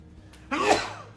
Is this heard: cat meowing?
no